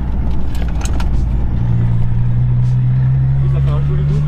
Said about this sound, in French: 6 cylindres, franchement, c'est un son unique